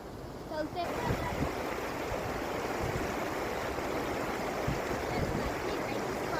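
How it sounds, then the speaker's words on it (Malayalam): A steady, dense rush of river water flowing under ice at high altitude in Arunachal Pradesh, continuous and fairly close, with a brief higher-pitched sound at the start. "മേളിൽ മൊത്തം ഐസുമാണ്"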